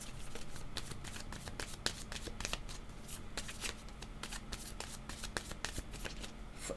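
Tarot cards being shuffled by hand, a rapid, steady run of crisp riffling and flicking taps, close but quiet, with no talk over it.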